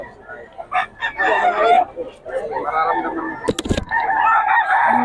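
Roosters crow loudly and close by among crowds at a gamecock sale, with clucking and people talking over them, plus a brief sharp clatter near the end.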